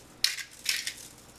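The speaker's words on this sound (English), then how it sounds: "I am going to generously coat them with some salt" Salt is sprinkled over raw spiralized zucchini noodles in two short, close, gritty crackling bursts, with a brief pause between them and no talking.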